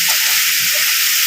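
Potatoes and green peas sauté in a hot pan, giving a steady loud hiss and sizzle with faint stirring scrapes, no pauses.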